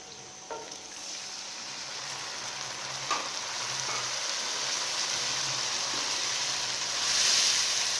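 Green chilies fry in hot oil as yogurt goes into the pan for a masala fish curry, giving a steady close sizzle that swells louder and brighter near the end, with no voices.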